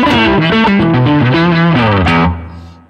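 A heavily distorted electric guitar, played through a Line 6 Helix Stomp, plays a loud, gritty run of chords and notes, then rings out and fades into a short tail.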